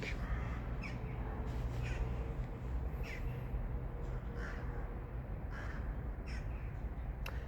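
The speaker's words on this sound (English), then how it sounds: "I'm grateful for the crows and the animals here." Crows caw repeatedly in a park, several short harsh calls spread across the clip over a steady, loud background rumble.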